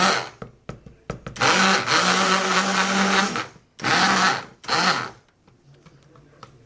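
A stick blender pulses through cold process soap batter for a tiger strip bar in short bursts: several quick taps, then a long sustained whir, two more shorter runs, and quiet stirring between them.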